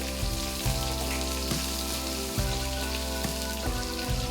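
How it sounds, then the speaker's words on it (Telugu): Finely chopped medium onion, added with a few cashews, fries in a pan for masala upma. A steady close sizzle runs throughout under a droning hum, with no speech. "ఇంకా ఒక మీడియం సైజ్ ఉల్లిపాయను చిన్నగా కట్ చేసి వేసి కాసేపు వేపుకోండి"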